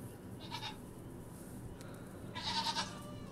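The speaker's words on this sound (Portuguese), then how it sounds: "Olha lá, mini cabra, a nova onda de animais de estimação." A miniature goat kept as a pet gives two short, faint bleats, the second a little louder, over a soft steady background hum with nobody talking.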